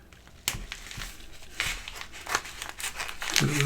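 Scissors cut open a package in several crisp snips and crinkles, close by and irregular, and the plastic rustles toward the end.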